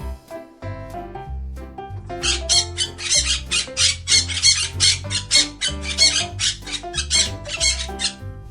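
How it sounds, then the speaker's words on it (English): Parrots squawking in a rapid series of loud, harsh, screechy calls, nearly continuous and close, preceded by a few quieter chirps. "Parrots."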